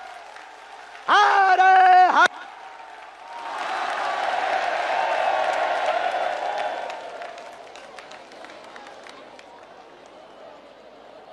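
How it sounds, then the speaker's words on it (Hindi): A large crowd at the Bageshwar Dham groundbreaking ceremony for a cancer hospital breaks into sustained, swelling applause that slowly fades away. A voice first chants briefly. "जोरदार ताली बजा करके हम सब पूरा बागेश्वर परिवार स्वागत करें"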